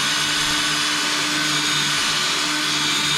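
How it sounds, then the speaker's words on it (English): Power drill boring through the center of an aluminum rivet head on a jon boat, a continuous loud high-pitched whine with a steady motor hum, close and alone. "we're just gonna drill straight through the center of the rivet head"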